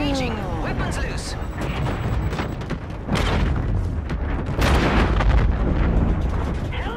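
Heavy gunfire and booming explosions from a Call of Duty: Infinite Warfare battle roar continuously, with a big blast near three seconds and another surge near five, dense and loud throughout with game voices mixed in.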